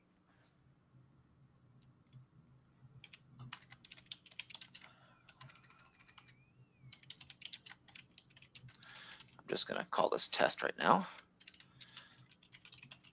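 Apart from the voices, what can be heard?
typing on a computer keyboard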